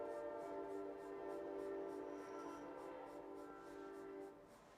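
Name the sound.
train passing by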